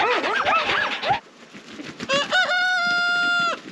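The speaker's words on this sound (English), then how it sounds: "Rooster's trying to get me. Rooster's pissed." A chicken clucks in quick agitated bursts, then after a pause a rooster lets out a loud, drawn-out crow up close.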